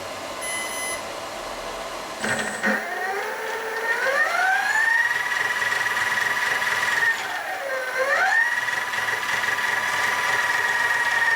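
A brushless motor fitted to a mini lathe and driven by an ESC gives off a steady electric whine that climbs in pitch as it spins up, dips briefly, then rises again and holds, with no talking.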